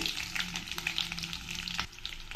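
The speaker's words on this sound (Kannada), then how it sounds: "ಸಾಸಿವೆ ಸಿಡಿತಾ ಇದೆ" Mustard seeds and shallots sizzling and spluttering in hot oil, a steady close frying hiss with scattered sharp pops, no talking.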